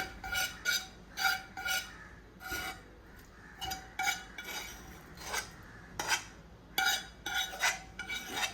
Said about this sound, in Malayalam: മുഴുവൻ സേമിയോ ഇതിലേക്ക് ഇട്ട് കൊടുത്തതിന് ശേഷം ഇതേപോലെ ഒന്ന് ഇളക്കി കൊടുക്കട്ടോ